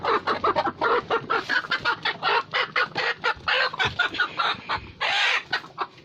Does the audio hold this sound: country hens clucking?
yes